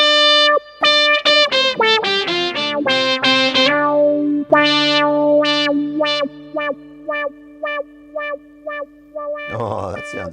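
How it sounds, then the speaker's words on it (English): Synthesizer tones, a run of fast staccato notes with bright harmonics followed by a sustained low drone under repeated short stabs, close and loud, ending in a brief noisy burst. "that's the synthesizer"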